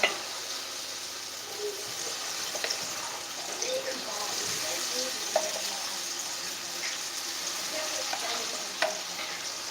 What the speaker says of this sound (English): You make it into balls, put it in your oil.